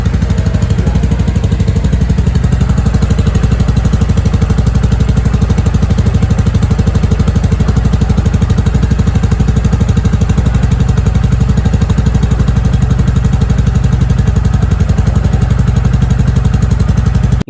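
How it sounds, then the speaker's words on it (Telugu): Royal Enfield Meteor 350 with chrome exhaust idling close by, a loud, steady thumping single-cylinder beat that runs unbroken throughout. "ఒకసారి ఎగ్జాస్ట్ నోట్ కూడా విందాం"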